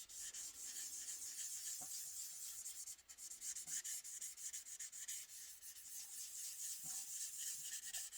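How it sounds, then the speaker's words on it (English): Sandpaper rubbing back and forth across primer on an AMT 1968 Corvair model car body, a close, soft rasping scrape with repeated short strokes, alone without voices. "you'll hear the sound of the sandpaper across the primer just start to change as it starts to smooth out"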